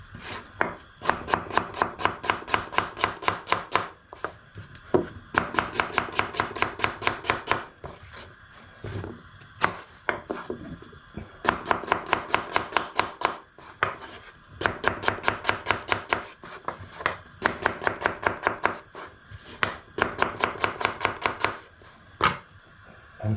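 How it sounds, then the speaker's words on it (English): A knife chops onions on a cutting board in quick rhythmic bursts of sharp knocks, each run lasting a second or two, separated by short pauses and occasional single taps, close and clear with no talking. "The onions are going to dissolve anyway, so it doesn't really matter if you chop it fine or rough."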